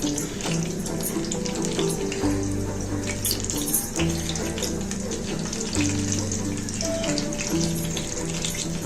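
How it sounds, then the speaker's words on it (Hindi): Mini vegetable samosas frying in hot oil over a medium flame, a steady dense hiss and bubbling that runs continuously at moderate loudness with no voices. "यहाँ पे हमने मीडियम फ्लेम पे अच्छे से ऑयल को फ्राई गर्म कर लेना है ताकि हम समोसों को अच्छे से फ्राई कर सके"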